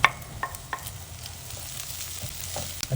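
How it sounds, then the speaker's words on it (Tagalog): Ginger sautés in a pan with a soft, steady sizzle, broken by a few sharp clicks and scrapes from stirring. "Una ko lang gisahin yung luya."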